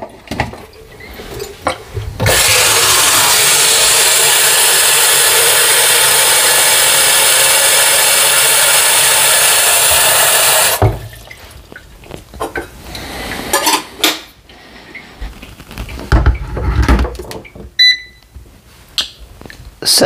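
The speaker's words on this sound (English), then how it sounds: "While I have my water boiling" An electric kettle heating water for pour-over coffee: after some handling clatter, a loud, steady broadband roar runs for about eight seconds and then cuts off abruptly, followed by scattered knocks and clicks.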